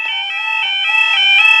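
The level crossing alarm at Spondon Station in Derbyshire rings loud and close, a piercing two-tone warning that pulses rapidly and steadily without any voices.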